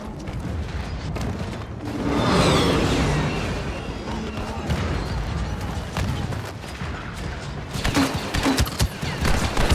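Blaster fire pours onto a walker in a Star Wars game battle on Crait, a dense, continuous barrage of shots and booms lasting throughout, loudest early on and swelling again near the end.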